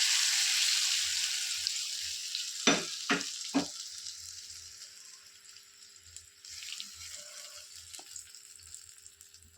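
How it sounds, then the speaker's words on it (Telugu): Hot fried tempering poured into cucumber chutney, a loud hiss fading slowly beneath a few sharp clacks of a spoon, close up with no talking. "ఇలా ఎర్రగా వేగిన పోపును ఇప్పుడు చట్నీలో వేసుకుందాం."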